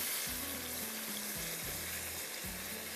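A spiced masala for masala mattar fries in a pan with a constant soft sizzle, over a low, wavering hum in the background.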